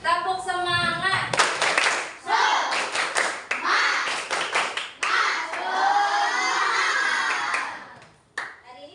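A classroom of students clapping a rhythmic spirit clap in fast patterned bursts with short pauses, mixed with voices calling along, close and loud.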